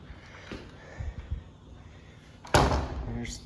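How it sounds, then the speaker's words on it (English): A small screen door at the entrance of a house in Santa Fe, New Mexico bangs shut with one sharp, loud slap and a brief rattle after some quiet shuffling and footsteps. "Nice little screen door."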